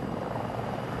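A helicopter in the video game Battlefield 6 drones steadily with a dense, continuous rotor and engine rumble, loud and unbroken throughout, with no talk over it.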